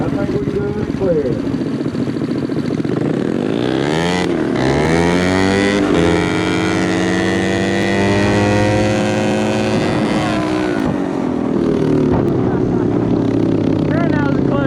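Mini bikes with small single-cylinder engines, among them a 190cc CT70, a 225cc Mega Moto and a 108cc Z5, race side by side in a drag run, engines loud and close, pitches climbing and falling in overlapping sweeps through each shift.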